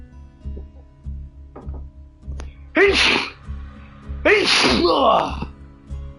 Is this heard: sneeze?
yes